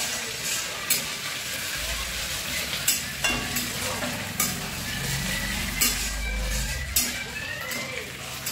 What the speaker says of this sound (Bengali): হ্যাঁ আদা একটু ভালো করে ভেজে নেব।